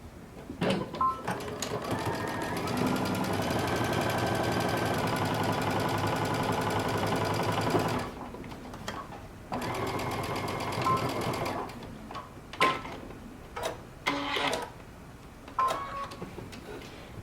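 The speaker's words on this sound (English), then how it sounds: "You're going to sew all the way down." A sewing machine stitches a cape seam in a long, loud, steady run lasting several seconds, then stops and starts again in shorter bursts, with clicks and handling noises and a little talk in between.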